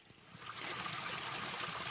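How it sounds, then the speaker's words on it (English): Creek water along a foothills hiking trail, trickling and burbling close by in a continuous gentle flow that swells slightly after the opening moment, with no talk. "And this creek here is just an excellent water source."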